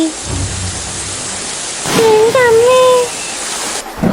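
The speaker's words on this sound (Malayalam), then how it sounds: "ഇതെന്താ പെട്ടെന്ന് ഒരു മഴ?" Steady rain pouring down in an animated cartoon, a dense broadband hiss that swells midway while a voice speaks over it.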